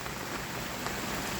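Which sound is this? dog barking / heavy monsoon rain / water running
heavy monsoon rain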